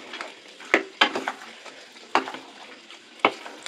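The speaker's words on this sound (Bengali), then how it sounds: "এটাকে কষিয়ে নেব।" Chicken stir-fried with cashew paste in a pan for chicken do pyaza, a low continuous sizzle punctuated by several sharp spatula scrapes and knocks against the pan at an uneven rhythm.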